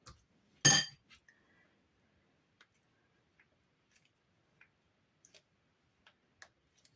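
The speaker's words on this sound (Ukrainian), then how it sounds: "Додаю майонез і все гарно перемішую." A metal spoon stirs mayonnaise into a sandwich spread in a bowl, giving one sharp, loud clink up close followed by a scatter of faint, light taps and ticks.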